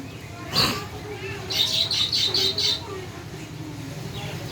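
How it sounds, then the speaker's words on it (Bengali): Pet budgerigars chirping in their enclosure: one sharp call, then a quick run of high, twittering chirps, set against a low background hum and some faint nearby sounds. "কারণ আমার এই বাজিগার পাখিগুলো"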